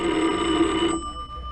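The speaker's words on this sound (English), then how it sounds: "At 11, the phone rang." A telephone bell rings loudly and continuously, then abruptly stops, leaving a faint fading ring; no voices.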